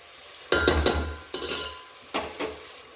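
A spatula stirs ginger-garlic paste frying in a pan for masala rice, giving three loud, close scraping bursts over a low sizzle with no talking.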